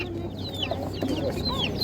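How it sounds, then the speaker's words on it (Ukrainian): Domestic chickens at an outdoor animal market cluck and squawk in short, overlapping calls amid a steady crowd murmur and background bustle. "Є ще домашні такі от курчата."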